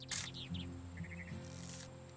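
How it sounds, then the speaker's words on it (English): Birds chirping in a video game: a few quick, faint tweets and a short run of chirps over a steady humming game soundtrack, with no one talking. "Hear birds?"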